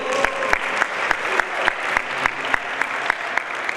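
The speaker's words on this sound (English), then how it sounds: "a huge round of applause again for the Sandbox team" Applause from an audience at a startup event honouring the Sandbox team, steady crowd clapping with distinct sharp, regularly spaced claps standing out close by.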